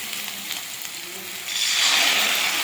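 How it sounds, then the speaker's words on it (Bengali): Onions sizzling in hot oil in a pan for a Bengali rui fish curry, a soft hiss with light scraping from stirring that grows louder and brighter halfway through. "পেঁয়াজটা হালকা নাড়াচাড়া করে নিতে হবে যাতে রঙটা গোলাপি হয়ে যায়"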